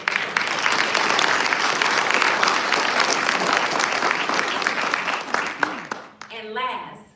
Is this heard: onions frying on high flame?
no